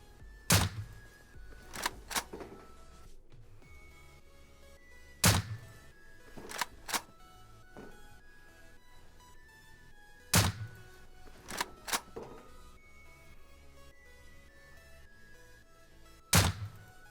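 Silenced weapons fired in the game Rust, heard as a series of muffled, thudding suppressed shots, single and in quick pairs, spaced out over the stretch with quiet gaps and small clicks between them.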